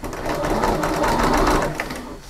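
Sewing machine stitching fabric along a drawn line for a folding bowl, a steady continuous whirring hum that runs close and loud for the whole stretch before easing slightly at the end.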